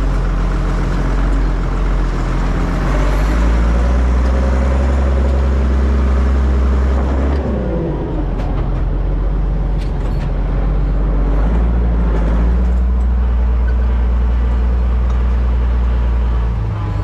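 A Zetor 16145 tractor engine runs under load on a dynamometer, a loud, deep, steady drone whose pitch dips and recovers midway, with faint clatter above it.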